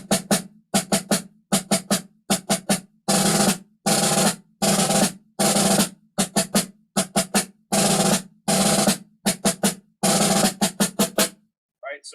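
Snare drum rolls played at 16th note triplet speed in short, evenly spaced bursts of rapid strokes, loud and close, with brief silences between the groups and no talk.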